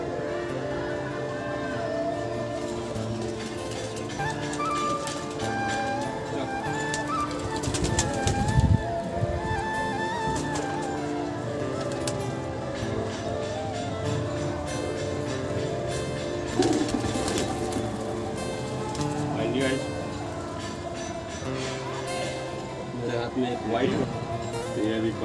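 Pigeons coo in soft repeated rolling calls under fairly continuous talking, with some background noise and a few louder bumps at moments.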